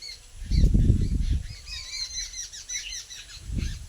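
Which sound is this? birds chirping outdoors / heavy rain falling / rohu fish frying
birds chirping outdoors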